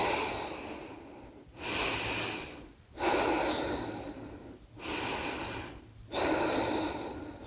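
Slow, deep breathing held in a hatha yoga squat-style pose, close and audible: long airy inhales and exhales alternating in a steady rhythm of about four breaths, with no voice over them.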